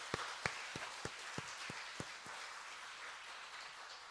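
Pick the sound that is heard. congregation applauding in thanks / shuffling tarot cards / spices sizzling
congregation applauding in thanks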